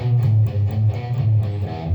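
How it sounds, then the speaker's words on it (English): A palm-muted, chugging electric guitar riff with dull, choked low notes in a steady rhythm, fairly loud and close, with no voices. "the second part is going to be palm damped"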